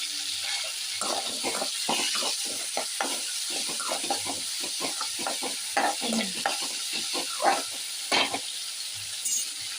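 Sliced brinjal and curry leaves sauté in a pan, a constant hiss of frying oil broken by frequent scraping spatula strokes, near and fairly loud.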